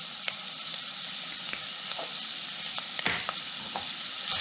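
A spoon stirs salt and pepper into a pot of red lentil soup with carrots, giving a soft, steady bubbling sizzle with scattered light clicks and scrapes, with no talking.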